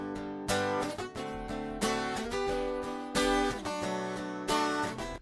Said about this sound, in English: The acoustic guitar here is also like hard pan left, right, on like the same thing that is played.